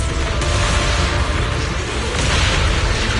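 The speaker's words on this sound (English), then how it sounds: "Move in during the gaps between explosions." Explosions in the video game Zenless Zone Zero form a continuous, loud, broadband roar of booms and rumbling blasts that fills the whole stretch without pause, with no talk over it.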